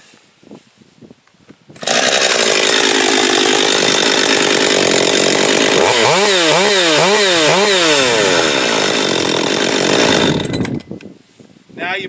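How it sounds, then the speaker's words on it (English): A Husqvarna chainsaw is restarted and fires up almost at once, running loud and steady for about eight seconds with a few revving swells in the middle before cutting off, close to the listener. "So what I'm going to do is go through and do a restart on each one of these as I discuss them."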